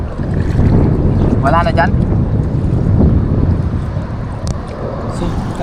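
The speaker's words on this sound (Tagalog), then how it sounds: "malakas po ang hangin" Strong wind buffeting a microphone aboard a small fishing boat at sea, a continuous loud roaring rumble with gusts, and a brief voice speaking over it.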